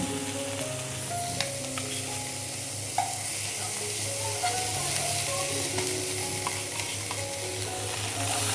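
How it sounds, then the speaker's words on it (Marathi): Paneer slices fry in oil in a pan while being stirred and flipped, a constant close sizzle with occasional clicks of a utensil against the pan, steady throughout. "तर मी इथे आता पनीर पलटून घेतले आहे।"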